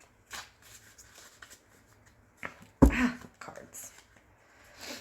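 Tarot and oracle cards being shuffled and drawn, with short papery riffles and slaps spread through the clip, one sharper louder flick near the middle, recorded close and quiet with no talking.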